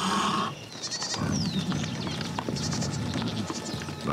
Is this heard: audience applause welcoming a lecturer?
no